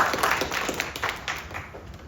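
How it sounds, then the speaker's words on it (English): An audience claps in steady, dense applause for a guest at a university discussion event, a soft, even patter of many hands held at a moderate level throughout. "Let's have a round of applause for our guest, Garo"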